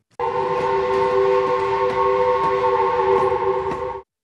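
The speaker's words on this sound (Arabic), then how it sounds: "يتوجه قطار من كييف حاملا المتطوعين" A train leaves Kyiv carrying volunteers, its whistle sounding a loud, steady multi-tone blast that holds for about four seconds over rumbling rail noise before cutting off abruptly.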